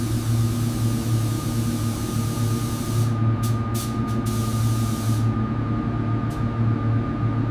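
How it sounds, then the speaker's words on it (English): A continuous hissing spray of paint onto a 1953 Volkswagen Beetle body over a steady mechanical hum, with short bursts cutting in and out near the middle; close and fairly loud, no talking. "Spraying now, looking good,"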